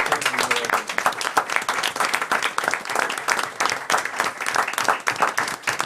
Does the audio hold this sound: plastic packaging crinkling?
no